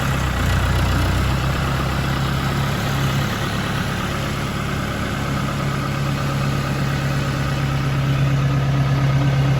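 A farm tractor engine idles nearby at a steady, unbroken low rumble, with no voices over it.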